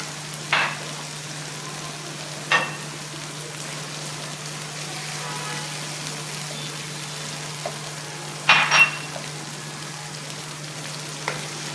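Whole spices frying in already-hot oil for bhindi masala, a steady low crackling sizzle with a few sharp clinks of a spoon against the pan, with no talking.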